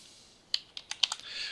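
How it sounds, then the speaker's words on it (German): A short run of about six crisp key clicks on a computer keyboard, close and fairly quiet, spaced irregularly over a soft background hiss. "können Sie auf der Tastatur das Ausrufezeichen eingeben, dann den gewünschten Eigentümernamen eintragen"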